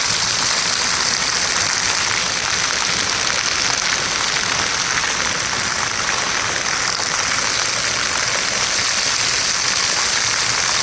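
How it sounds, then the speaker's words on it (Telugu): Steady rushing splash of falling water, continuous and fairly loud with no pauses, from a fountain pouring nearby at Rashtrapati Nilayam, Hyderabad. "వాటర్ ఫౌంటైన్ చాలా బాగుంది. Beautiful water fountain."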